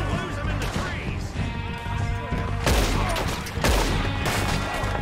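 Dense, chaotic gunfire from several weapons in Red Dead Redemption 2, loud and continuous with heavy overlapping shots and crashes throughout, with talking mixed into the din.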